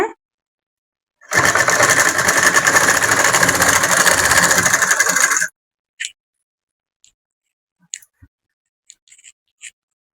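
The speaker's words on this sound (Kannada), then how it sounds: "ಸೀರೆಯನ್ನ ಅಡ್ಜಸ್ಟ್ ಮಾಡ್ಕೊಂತ ಫಾಲ್ ಮೇಲೆ ಇಟ್ಕೊಂಡು ಹೊಲ್ಕೊಂತ ಬನ್ನಿ" An electric sewing machine stitching a fall onto a saree runs in one loud continuous burst of rapid needle chatter for about four seconds, followed by a few faint clicks and handling taps.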